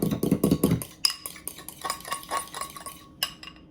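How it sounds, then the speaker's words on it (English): A fork stirs and mixes sandwich filling in a bowl, giving a run of close, scraping and clinking strokes against the dish. The first strokes are quick and rhythmic, then scattered lighter clinks follow, with no talk. "Just gonna mix it up."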